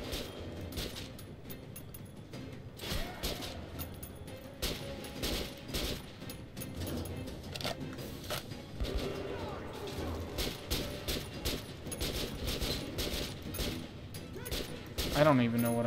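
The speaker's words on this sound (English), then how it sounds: "I'm just shooting at the lights." Gunfire in the video game Metro Last Light, repeated sharp shots and bursts in an irregular rhythm, mixed with mechanical clicks and clatter, fairly close, with a brief tonal sting near the end.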